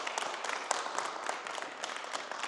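A middle school wrestling team claps along together, a dense run of many overlapping hand claps forming steady applause at moderate distance, with occasional louder individual claps standing out.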